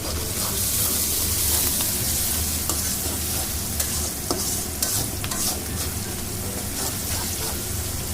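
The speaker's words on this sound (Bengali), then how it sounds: "মাছটা যেহেতু খালি টমেটো দিয়ে ভুনা করবো" Mirka fish frying with tomato in a hot pan, a steady loud sizzle with occasional stirring scrapes and clinks, close by and continuous.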